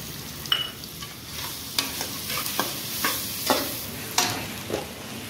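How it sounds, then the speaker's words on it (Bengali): Egg fries in a pan for chow mein-style noodles, a continuous soft sizzle broken by repeated sharp scraping stirs of the spatula at irregular intervals, close up with no talk. "ডিমটা ভাজা ভাজা হয়ে গেছে"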